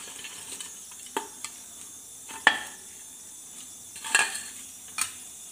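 Roasted saag greens go into a cooking pot, heard as a few close clinks and scrapes of a utensil against the pot with faint sizzling underneath, spaced irregularly.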